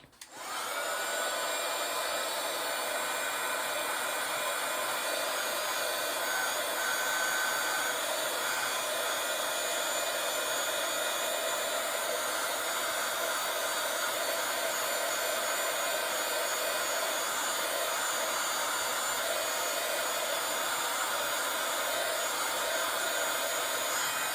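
A handheld dryer blows steadily and loudly for over twenty seconds, drying a scrapbooking project at a craft table; a constant, unbroken whoosh with a faint whine and no talking.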